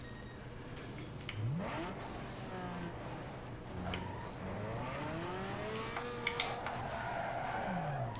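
A Nissan Skyline race car in Need for Speed Underground 2, its engine revving through rising and falling gear sweeps, with some tire squeal and a faint voice now and then.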